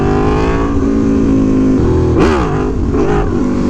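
An Aprilia Tuono V4 Factory motorcycle engine revs hard and close during a wheelie attempt without wheelie control. The loud, rich roar rises and dips in pitch, with a quick surge near the end.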